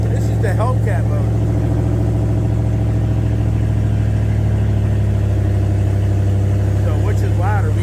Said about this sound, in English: This is the Hellcat motor.